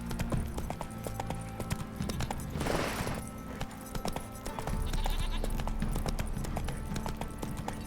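Steady clip-clop of horse hooves in The Witcher 3 plods along under a busy, layered background of music and ambient game sound, with a brief rushing noise midway.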